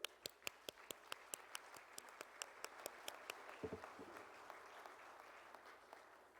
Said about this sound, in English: you can applaud 50 years for ping pong diplomacy